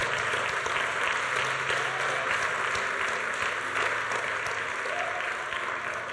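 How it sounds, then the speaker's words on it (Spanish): A church congregation applauds during a sermon, a steady wash of clapping heard from a distance at low volume, continuous throughout without voices. "Denle un fuerte aplauso a nuestro Señor."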